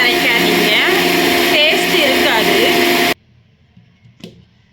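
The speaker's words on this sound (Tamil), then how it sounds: "பூண்டு சேர்த்து நம்ம அரைச்சி எடுத்துக்கலாம்" A mixer grinding garlic into paste for ginger-garlic paste, a loud continuous whirring roar for about three seconds that cuts off abruptly, followed by quiet rustling and a brief clatter.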